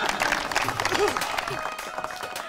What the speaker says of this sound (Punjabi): ਧਰਮਿੰਦਰ ਲਈ ਤਾੜੀਆਂ ਲਾਓ ਜੀ